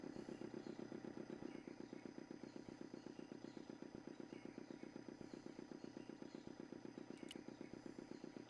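A small engine putters along in a steady, evenly pulsing rhythm, close and moderately loud, with a brief click near the end and a sudden jump at the close.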